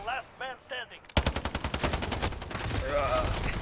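Rapid automatic gunfire in a Call of Duty Modern Warfare 2v2 match comes as a loud, fast burst of repeated shots, with a person talking just before and over the firing.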